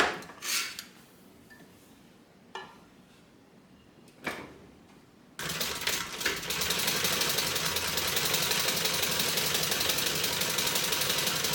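After a few scattered taps and handling sounds, a sewing machine starts up and runs in a continuous, steady whir while top stitching a fabric AllyBee bag, close and even until the end.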